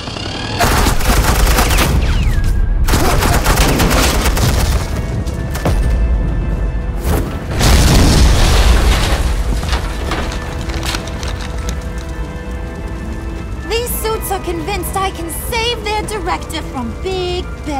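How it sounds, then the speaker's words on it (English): Gunfire and blasts crackle in the Batman Telltale Series game, dense bursts of shots and impacts over the first stretch, with voices talking and music-like tones toward the end. "suppressing fire."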